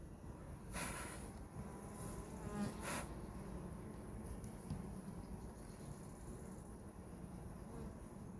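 A dense, steady hum of many honey bees buzzing close by on a brood frame, continuous throughout with no voices.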